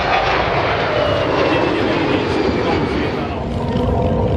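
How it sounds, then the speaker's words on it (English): An Airbus A319 and a Fokker 100 jet fly by at an air show, producing a loud, sustained, rushing engine roar that holds steady and eases slightly toward the end. "Both jets performed impressive flybys and maneuvers during the event."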